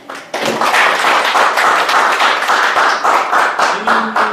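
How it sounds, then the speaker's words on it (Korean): Audience applause at a speech class, loud and close, with individual claps distinct in a rapid, steady rhythm from a small group throughout. "박수 보내드리고 싶습니다"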